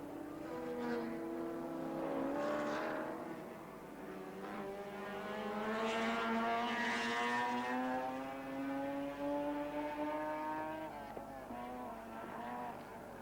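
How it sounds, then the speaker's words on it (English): Touring race cars of the 1982 Australian Endurance Championship at Oran Park, among them Alan Jones, Bob Morris and Dick Johnson machines, roar past with rising and falling engine pitch, loud and sustained throughout. "So the 2 Alan Jones cars now, the Bob Morris and the Barry Jones car, running in 4th and 5th position."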